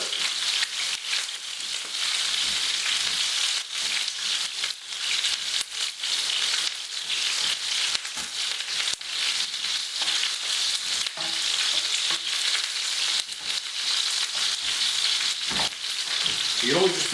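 Chicken pieces for butter chicken sizzle and fry steadily in a hot pan, a dense continuous crackle with occasional stirring clatter, close and loud with no talking.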